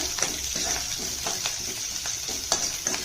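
Slit green chillies fry in hot oil in a pan for lemon rasam, giving a steady close sizzle broken by a few soft scrapes of stirring, with no voices.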